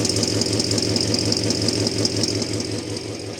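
An old Studebaker car engine idles just after its first successful start, running on a single exhaust with a steady, even rumble and rhythmic ticking pulses, close and continuous with no talk.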